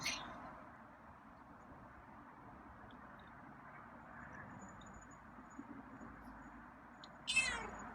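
A single short meow from a feral cat being tamed near the end, after several seconds of quiet room hum.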